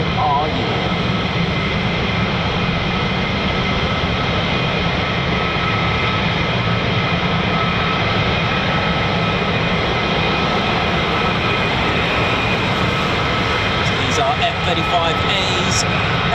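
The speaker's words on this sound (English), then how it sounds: "F35As, F35A Lightnings. 5th gen stealth jets." F-35A Lightning stealth fighter jets fly at RAF Lakenheath with a loud, continuous roar of jet engines that fills the whole span, and someone talks over it.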